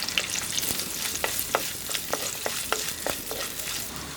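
Garlic cloves and ginger sizzle in hot oil in a pan for a coconut fish curry, a soft continuous crackle broken by sharp stirring clicks of a spoon against the pan, close and without speech.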